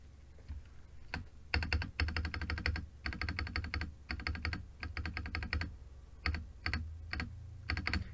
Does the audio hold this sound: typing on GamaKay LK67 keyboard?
yes